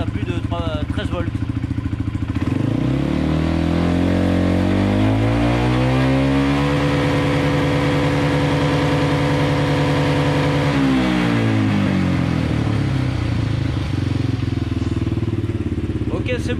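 Quad engine revved up past 3000 rpm, a loud steady mechanical drone that climbs in pitch, holds high for several seconds, then drops back toward idle, with someone talking over it throughout.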